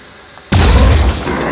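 A weapon fires with a single loud, sudden explosive boom in the video game Phoenix Point, followed by a sustained rumbling roar that fills the rest of the moment.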